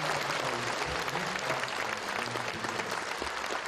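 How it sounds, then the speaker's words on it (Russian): Sustained applause from a concert hall audience, dense and steady clapping filling the room throughout with no voices on top. "Каждое выступление, будь то танец или песня, зал встречал бурными овациями."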